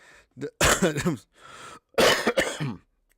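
A person coughs and clears their throat in two short, close bursts separated by a brief pause, loud against otherwise near silence.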